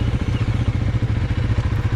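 A brand new Honda CRF300L dual-sport motorcycle with only 48 km on it, being ridden: a steady, close engine drone with rapid rhythmic low pulsing that holds evenly throughout.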